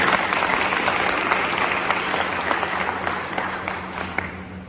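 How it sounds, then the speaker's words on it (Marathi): Audience at a spiritual talk on the Gita breaks into applause, a dense, steady burst of many hands clapping close by that slowly tapers toward the end. "एकदा तुझा टाळ्या वाजवा."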